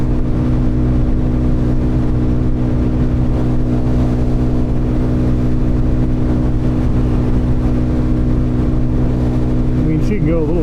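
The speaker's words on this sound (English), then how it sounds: "My little DRZ's fucking putting in all the work she can." A Suzuki DRZ400SM motorcycle engine drones steadily at highway speed, around 70, loud and close with continuous wind rush and an even mechanical hum throughout.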